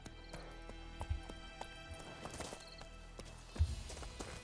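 A horse gallops in the Witcher 3 video game with rhythmic clip-clop hoofbeats and soft thuds, over a faint background hum.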